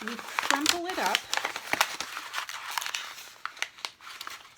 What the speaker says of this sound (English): we take a piece of paper and we crumple it up